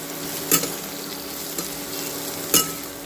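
Crushed garlic stirred into potatoes and beans in a pan, with a steady low sizzle and two distinct spoon scrapes against the pan, no voices.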